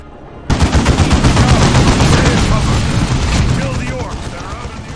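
Heavy bolter and Dreadnought Gatling gun fire in Dawn of War 2 bursts in suddenly as a loud, sustained barrage of rapid shots, rolling on for several seconds before slowly thinning out.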